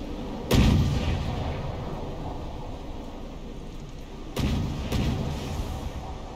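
Warship missile launches in a naval video game: three loud booming blasts, one early and two close together later, each trailing off into a rushing roar.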